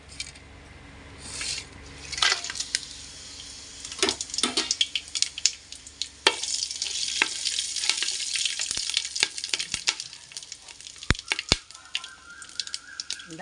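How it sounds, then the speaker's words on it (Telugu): Whole spices crackle and sizzle in hot oil for chicken biryani, including bay leaf, shahjeera, cinnamon, marathi moggu, cloves and cardamom. Steady frying runs throughout with intermittent clinks and scrapes of a utensil stirring in the pan. "నూనె కాగాక ఈ దినుసులను వేసుకున్నాం"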